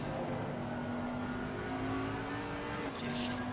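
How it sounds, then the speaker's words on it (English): A GT race car in Assetto Corsa Competizione works through a corner on a wet Paul Ricard circuit in the rain, a steady droning engine note with a sustained tone that shifts slightly, then a brief burst of hiss near the end. "Fighting the car through the corner."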